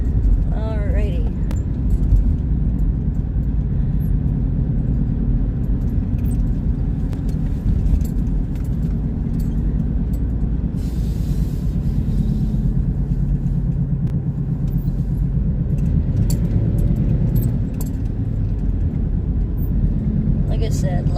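Steady road rumble and engine drone from a car cruising a busy Indiana interstate trucking route at sunrise, wind and tire noise constant throughout, with talking over it.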